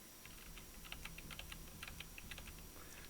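Keys clatter on a computer keyboard in quick, uneven bursts of clicks, quiet and close, with short pauses between the runs of keystrokes and no talking.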